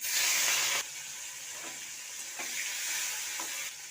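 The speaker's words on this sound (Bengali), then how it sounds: "তেলটা গরম হয়ে গেছে দিয়ে দেবো পাঁচ ফোড়ন কাঁচা লঙ্কা চিংড়ি মাছটা দিয়ে দেবো" Prawns, panch phoron and green chillies hit hot oil in a pan, giving a steady, loud sizzle and hiss with a few light stirring knocks, no voices.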